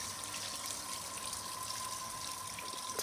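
Water pours steadily into a Simpson 8.5kg washing machine nearly full of clothes, a continuous gushing hiss under good water pressure, with a faint steady tone running through it.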